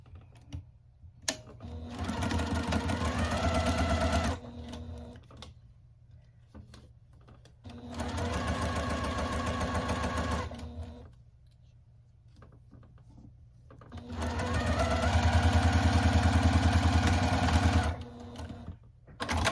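A sewing machine stitches pieces of a baby quilt top in three sustained bursts, each several seconds long, with quiet pauses in between; it is close and moderately loud, with no talking.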